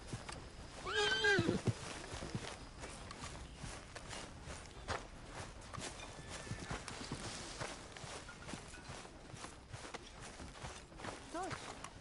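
Horse hooves clip-clop and a brief neigh rise early in a Red Dead Redemption II game scene, followed by softer hoofbeats and ambient noise under a voice.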